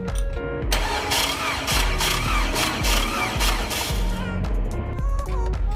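A GMC Acadia crank-turns without starting, the starter motor churning in a long, steady rhythmic cranking run with pulsing compression beats, loud and close, cutting off near the end.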